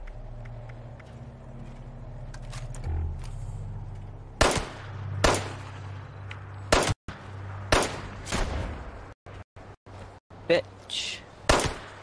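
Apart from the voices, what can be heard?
gunfire in Fallout 76 video game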